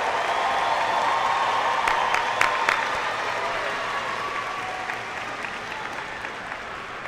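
Families and guests at a high school graduation ceremony applaud the graduates, a broad sustained wash of clapping from a large crowd, steady and even throughout with a few sharper claps standing out.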